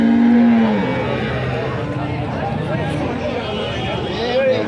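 A calf moos loudly and close by at the Punganur cattle market, one drawn-out call at the start, followed by a busy babble of people talking and market noise.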